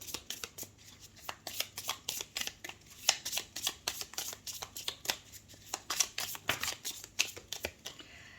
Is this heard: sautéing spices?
no